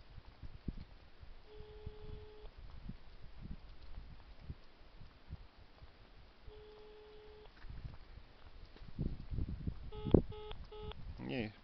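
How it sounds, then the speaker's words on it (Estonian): An unanswered telephone ringing tone on a call to the Elmari radio station line: two long, steady electronic tone bursts several seconds apart, then a cluster of short beeps, all faint over a constant hiss of line noise. "Elmari raadios juba tükk aega kutsub telefon ja keegi vastama ei tule"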